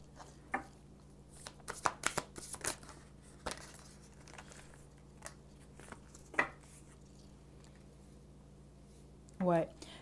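Playing cards handled and drawn from a deck during a French-language card reading, with scattered soft flicks, taps and shuffling clicks, mostly near and quiet, with a louder cluster of snaps near the end.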